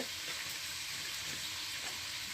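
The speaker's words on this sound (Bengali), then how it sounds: "একটা রড নিয়েছি আমি এটা গরম করলাম হিট করলাম এখন ওই যে ফুটা করব" A heated metal rod pressed into a plastic bottle gives a brief, steady hissing sizzle, close and fairly quiet, with no talk.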